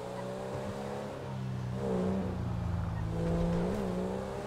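A stock car's engine in a police roleplay video game drones steadily, with revs rising around two seconds and again near three and a half seconds, loud and close throughout.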